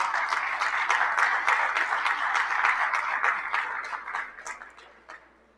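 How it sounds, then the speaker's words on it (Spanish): A conference audience at a civil engineers' event on infrastructure resilience gives a speaker a round of applause: full, even clapping that holds steady, then tapers off into a few last claps. "Un fuerte aplauso, por favor, para el doctor"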